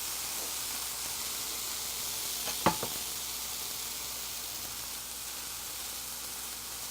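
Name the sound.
leftover mixed vegetables sizzling as they warm in pan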